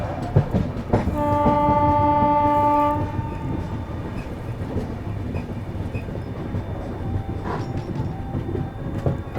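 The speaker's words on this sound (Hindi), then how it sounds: "ट्रेन अपनी जो है कांठ अराइव कर रही है" Dehradun–Subedarganj Express passenger train arriving at Kanth station, a long blaring horn over rumbling wheels and rail clatter, then continued low rolling noise with a brief faint tone later.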